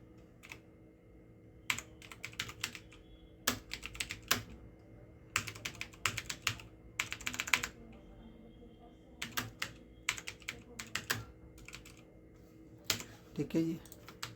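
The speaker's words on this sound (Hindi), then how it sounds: "कुछ और टाइप करता हूँ" Computer keyboard typing while text is entered into an Adobe InDesign document: quick bursts of clicking keystrokes, close and moderately loud, separated by short pauses, over a faint steady background hum.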